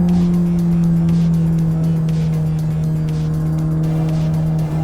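A McLaren 600LT MSO corners hard, its engine holding a loud steady drone while the tires squeal continuously through the turn, heard close up.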